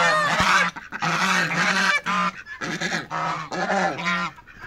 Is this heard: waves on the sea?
no